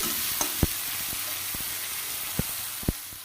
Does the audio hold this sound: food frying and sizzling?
yes